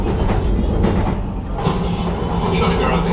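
Rumbling interior of a train slowing on the Wherry Lines as it approaches the tiny Berney Arms station, loud and steady with faint rhythmic clatter, and a voice speaking over the noise.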